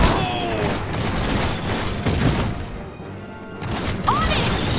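Battle gunfire and crashing explosions in the Iron Harvest 1920 strategy game, a dense continuous barrage of shots and impacts with game effects, while excited voices shout over the fighting.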